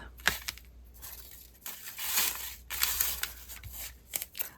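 Scissors cutting paper while making a hinge journal from repurposed printables, heard as several close, crisp snipping and rustling bursts in a quiet room, with no talking.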